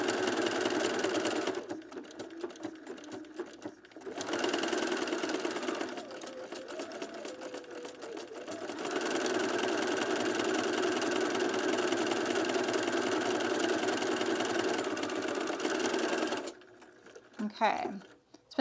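A sewing machine stitches buttonholes on a self-drafted blouse, its steady mechanical whir running in long bursts with short pauses between them, while a person talks over parts of the stitching.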